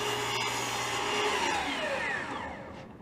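Power saw blade cutting through wood in a workshop, a steady loud whine that drops in pitch as it bites and then winds down at the end; close, with no talk.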